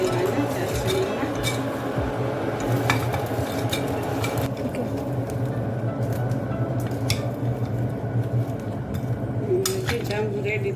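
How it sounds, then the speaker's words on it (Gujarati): Soft gulab jamun made with potato starch dropped and stirred into cooled sugar syrup, wet squishing and light clinks of a utensil against a pot, steady and close, with a voice talking throughout. "જાંબુ નાખી દેવાના ચાસણીમાં"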